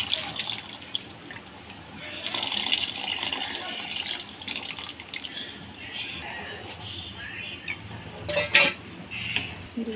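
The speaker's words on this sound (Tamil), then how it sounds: "இப்போ கரைச்சி வச்ச புளி எடுத்து ஊற்றிக்கலாம்." Tamarind water pours into a simmering oily eggplant curry, a close splashing, trickling stream with drips and a sizzling, bubbling background that rises and falls.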